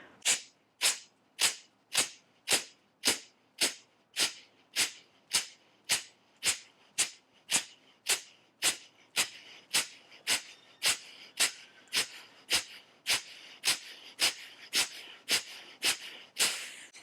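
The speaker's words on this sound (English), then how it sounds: "And then inhale to the belly, and then breath of fire." Breath of fire kriya breathing: rapid, forceful nasal exhales repeat in a steady rhythm, about two per second, close and clear with no talking, the later puffs slightly breathier.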